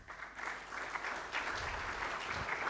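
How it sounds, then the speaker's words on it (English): Sustained applause from a conference audience at an international sports convention, steady clapping filling the room from start to finish with no talk over it. "Can we have another round of applause, please?"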